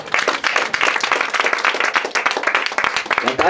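Steady applause and clapping from a group at a child's birthday celebration in Xeoj, dense and close, with a voice briefly heard over the clapping.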